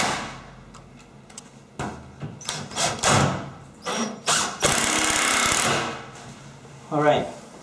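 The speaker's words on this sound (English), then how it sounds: "The sound is because I'm using an impact drill, so it's not because it's stripping the screw actually." An impact drill drives screws while installing a frameless glass shower door, giving several short bursts of loud, rattling impacts of varying length, with a longer run near the middle and a brief final burst.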